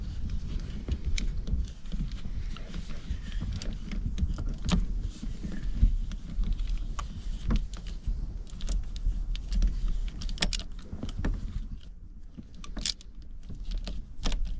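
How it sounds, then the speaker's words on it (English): A socket wrench works bolts out of a Pontiac GTO shifter under a steady low background hum, with irregular close metallic clicks, ratchet ticks and tool clinks throughout, no talking. "let's grab the socket we need to get these front 3 bolts out"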